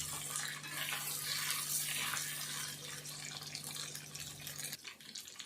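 Food sizzles steadily in a pan on a home stove, a continuous hiss like frying soya chunks, with a low steady hum beneath that cuts off near the end.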